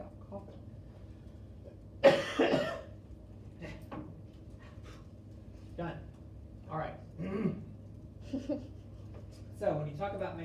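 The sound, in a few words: coughing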